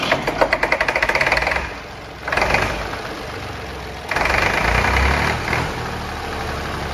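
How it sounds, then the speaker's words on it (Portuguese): A 1968 Fendt F51 tractor engine starts and runs with a steady, close diesel chug, the rhythm shifting a few times as the hand throttle is worked; no talking over it. "vou dar partida novamente e vou usar o sistema do acelerador de mão."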